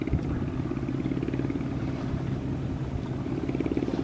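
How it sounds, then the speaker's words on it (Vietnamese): A fishing boat engine on a test run in rough seas chugs and rumbles continuously, with a throbbing mechanical rhythm and faint clatter, fairly distant and without voices. "có chiếc ghe đang chạy thử máy ha xịt khói đen"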